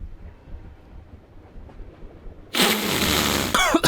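A train rolls through mountain countryside in a video game, a faint low rumble that turns abruptly into a loud, steady wash of rolling noise with a sharp screech near the end.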